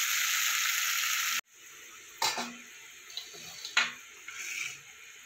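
Mustard and poppy seed paste with chili goes into hot oil and tempering spices in a pan for a flat bean curry. A loud steady sizzle cuts off abruptly, followed by soft frying crackle and a few stirring scrapes.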